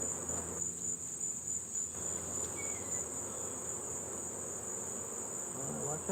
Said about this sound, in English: Watch out, buzzy bees.